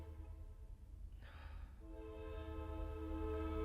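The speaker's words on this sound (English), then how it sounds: "Sorry if you can hear that train. I know there's a train over here." A passing train sounds its horn in a steady, sustained blast over a constant low rumble of the rail cars, moderately distant and heard on its own without speech.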